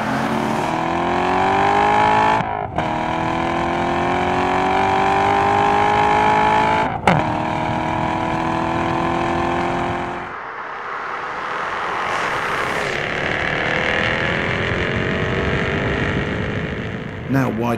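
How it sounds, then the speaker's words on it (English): A Chevrolet Corvette C7 Stingray, Porsche 911, Audi R8 and Jaguar F-Type are heard in turn at full throttle in second gear, each engine note climbing loudly and steadily with brief cuts between cars. "Here, for example, they're at full beans in second gear."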